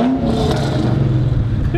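A supercharged Ford SVT Cobra Mustang engine revs, a loud, rough, low growl right up close, with a voice talking over it.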